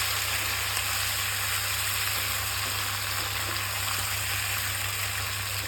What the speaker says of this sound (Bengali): সিদ্ধ করা আলু একটু সময় ভাজা করে নিলেই হবে।